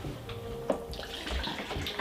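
Water is poured out in a steady splashing stream, close by and fairly quiet, with a brief louder splash partway through and another at the very end.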